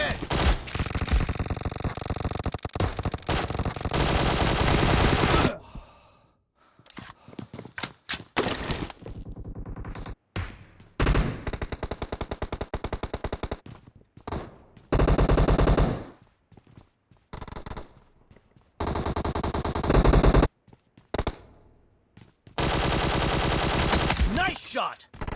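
Rapid automatic gunfire in a shooter video game comes in loud bursts of several seconds each, with short quiet gaps between them.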